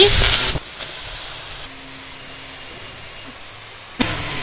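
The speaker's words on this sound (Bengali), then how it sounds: "পালং শাকটা কড়ার মধ্যে দিয়ে দিচ্ছি।" Fresh spinach hits a hot wok for a winter vegetable dish with radish and eggplant, giving a loud hissing sizzle that drops to a quiet simmer, then another sharp burst of sizzle near the end.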